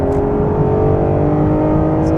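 Ferrari 599 GTO engine pulling hard under acceleration, a loud, steady mechanical roar with dense engine harmonics running through the short stretch.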